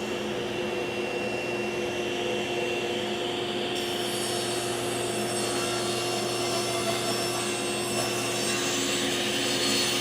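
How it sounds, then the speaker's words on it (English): A table saw rips wood while a Micro Jig Grr-Ripper push block guides the workpiece, a continuous loud whirring cut with a dust collector running alongside and a brighter hiss partway through. "All right, get the saw going."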